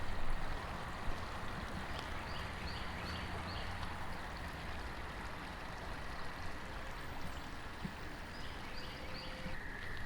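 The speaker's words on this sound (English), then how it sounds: "Got a nice little creek here." Steady, gentle rush of a creek flowing beside Bachelor's Grove Cemetery fills the whole stretch, a constant babbling wash with faint bird chirps above it.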